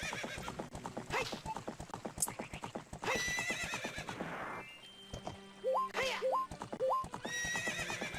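Epona the horse in Zelda Ocarina of Time gallops with rapid, rhythmic hoofbeats, broken by a loud whinny, with short musical chime tones layered over the running.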